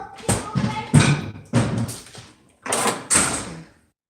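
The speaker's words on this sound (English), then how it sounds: "if that door slammed one more goddamn time" A door slams repeatedly, five heavy thuds and bangs with short gaps between them, some with a rattle or clatter, loud and close.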